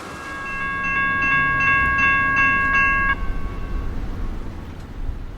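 Freight train in Florida crossing over from track 1 to track 2: a loud multi-tone horn blows in several short blasts over a steady rumble of rolling cars, then fades to rail noise.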